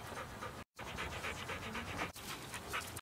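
A tired dog pants close by during a mountain hike on the Stairway to Heaven trail, its quick, rhythmic breaths broken by one short pause.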